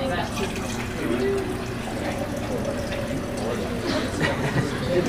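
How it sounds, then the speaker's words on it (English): Water poured from a mason jar, a steady continuous splashing trickle lasting the whole moment, close and fairly loud. "Pour some water from the mason jar."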